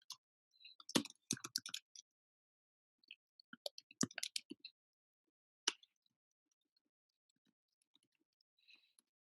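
A computer mouse clicks in sparse, close bursts of sharp taps separated by near silence, with a few fainter clicks toward the end.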